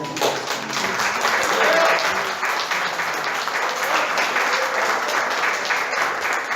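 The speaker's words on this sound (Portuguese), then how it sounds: "Vamos aplaudir esse Senhor" A church congregation at a Reformation service applauds in a full, sustained wave of clapping, with voices mixed in beneath it throughout.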